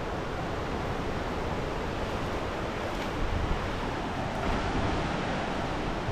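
Steady broadband rush of flowing water near a waterfall in a wooded forest valley, continuous and fairly loud with no breaks, heard alone without voices.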